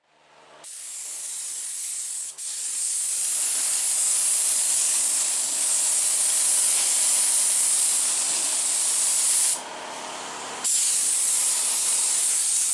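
Satin black paint hisses from a spray can in a car engine bay, a long continuous spray with one brief pause, close and fairly loud with no voices.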